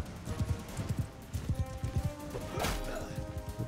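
Galloping horse hooves thud in a rapid, repeated clip-clop rhythm during a battle in Mount & Blade II: Bannerlord, with a brief crash partway through.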